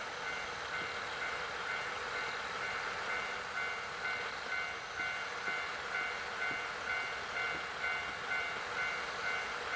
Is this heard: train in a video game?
yes